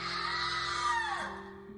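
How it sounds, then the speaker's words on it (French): A woman's long, sustained scream in a haunted nursery, high and wavering, close and loud, trailing off at the end with no talking. "C'est vous qui venez de hurler?"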